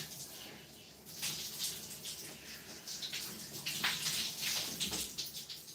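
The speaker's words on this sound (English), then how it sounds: "it's super awkward doing a standing shower" Shower water runs steadily in a standing shower during hair washing, a continuous hiss and splash that grows louder after the first second, close and without talk.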